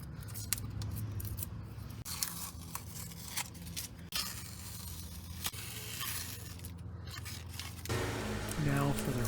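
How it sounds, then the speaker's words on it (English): Masking tape being peeled and torn off freshly painted front brake calipers, a steady run of close crackly ripping and scratchy scraping that grows louder near the end, with a voice faintly present underneath. "I'm going to go ahead and unmask the front 2 calipers."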